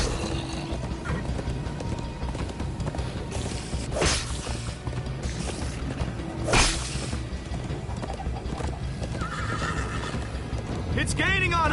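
A horse in Minecraft Story Mode gallops with rhythmic clip-clop hoofbeats and lets out several loud neighs and whinnies, with whooshing effects and character voices talking over the action.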